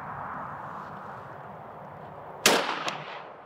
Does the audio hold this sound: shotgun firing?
yes